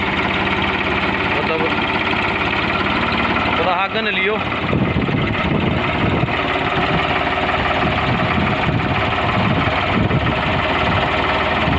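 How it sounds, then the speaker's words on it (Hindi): An old 44-year-old Ford tractor engine idles steadily and loudly at close range, a continuous low rumble throughout, with someone talking over it. "ऐसा वाह आवाज़ है इस ट्रैक्टर की जो पहले थी"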